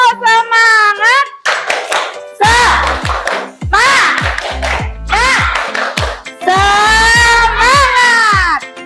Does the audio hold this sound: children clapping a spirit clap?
yes